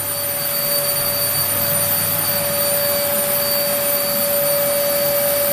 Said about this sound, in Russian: И только одному Аркаше нравится пылесос.